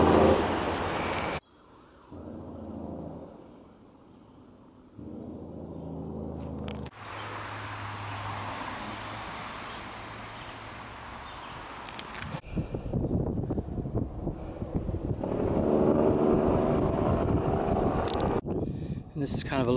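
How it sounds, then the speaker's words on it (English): Heavy trucks roar past going uphill on Route 30 in Pennsylvania, a loud continuous rumble and whoosh of passing traffic with wind buffeting the microphone. "Now you get to listen to the truck traffic as you go uphill along Route 30."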